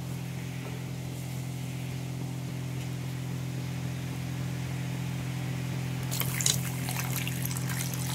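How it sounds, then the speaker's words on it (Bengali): Water is poured into a cooking pan of potatoes while cooking. A steady low trickle and hiss runs throughout over a constant hum, ending in a brighter splash near the end. "তারপরে আরেকটু পরিমাণ মতো জল দেব"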